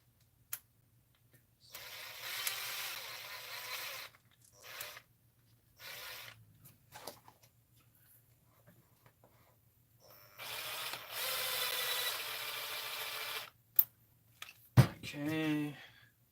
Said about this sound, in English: I'll put this screw back in.